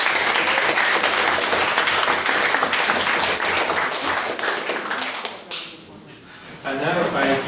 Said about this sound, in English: I'd like to suggest one more round of applause for that very interesting maiden speech.